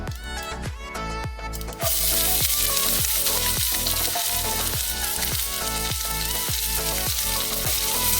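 Finely chopped onion dropped into hot frying oil, sizzling loudly and steadily with a burst of hiss as it goes in, under a repeating rhythmic musical backing for a vegetable kurma.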